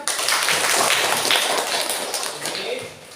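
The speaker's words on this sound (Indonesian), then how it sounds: "Tepuk tangan untuk Herlen." Classroom applause for a student during a maths lesson: a dense, steady wash of many hands clapping together, loud and close, easing off slightly toward the end, with some voices mixed in.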